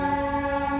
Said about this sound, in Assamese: ট্ৰেইন আহি আছে, এইফালে